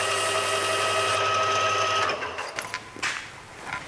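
Steady motorized whir of a rotary tool sanding a metal socket during 2JZ engine assembly, loud and continuous for about two seconds before cutting off, followed by faint clatter and handling noise.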